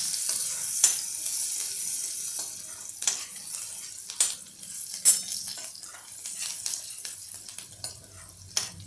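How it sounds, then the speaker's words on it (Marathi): Onion sautés in a pan for a vegetarian urad papad bhurji, giving a soft background sizzle. A spatula scrapes and taps against the pan at irregular intervals. "हा कांदा चांगला परतून घ्यायचा, चांगला लाल होऊन द्यायचा याला"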